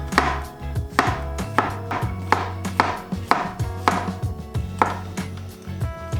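A knife trims and slices mushrooms on a cutting board for Japanese-style Napolitan pasta, with a series of crisp, close chopping thuds at an uneven but regular pace, no voices.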